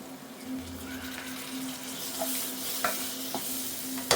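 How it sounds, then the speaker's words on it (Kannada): Low, steady sizzle of hyacinth beans frying over a low flame with tomato being added, and occasional spatula scrapes and taps on the pan, close with no talking. "1 ಮಿನಿಟ್ ಸಣ್ಣ ಉರಿಯಲ್ಲಿ ಇದನ್ನು ಫ್ರೈ ಮಾಡ್ಕೊಳ್ಳೋಣ."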